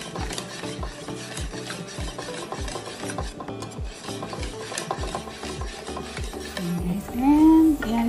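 Carrot cake batter of grated carrots and liquid ingredients stirred by hand in a bowl, giving a steady run of wet, scraping strokes at a regular rhythm over background music.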